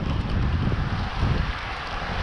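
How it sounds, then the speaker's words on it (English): Steady gusty wind rumbles across the microphone, a broad low roar with no talking. "It's getting kind of windy."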